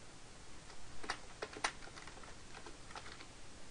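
Faint, quick keystrokes on a computer keyboard, a soft scattered patter of clicks with a few sharper taps, heard alone against a quiet background hiss.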